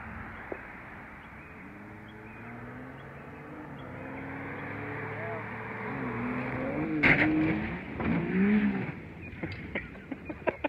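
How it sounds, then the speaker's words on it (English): Off-road Lexus driving on a dirt trail, a steady engine drone that swells as it revs, followed by bumps, scrapes and rattles toward the end. "And I got my buddy Ricky Hoffman, letting him drive the off-road Lexus."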